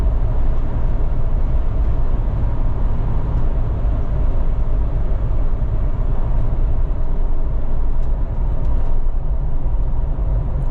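Kanati Terra Commander RTX tires roll at speed, filling the cabin with a steady, loud low-frequency road rumble and hum that never lets up, with no voices over it.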